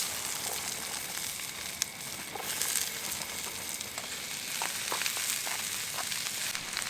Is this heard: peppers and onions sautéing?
yes